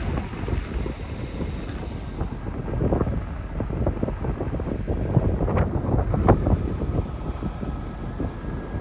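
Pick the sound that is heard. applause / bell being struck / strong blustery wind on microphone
strong blustery wind on microphone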